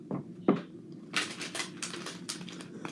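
Tarot cards being shuffled by hand, a few soft taps followed by quick riffling bursts of crisp card flutter, close and fairly quiet with no talk.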